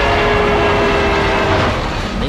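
A train in the animated Oddworld Soulstorm world rumbles steadily and loudly throughout, its rolling rail noise and a sustained horn-like tone filling the scene without any voices.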